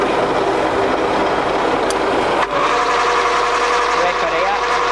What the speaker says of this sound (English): that's the main spindle going in on the feed